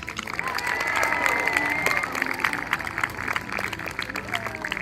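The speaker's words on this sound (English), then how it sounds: "Let's hear a massive cheer for our Trebuchet master, Philip!" A crowd cheers and applauds loudly outdoors at a trebuchet demonstration at Warwick Castle, a steady roar of voices and clapping with scattered whoops, sustained for several seconds.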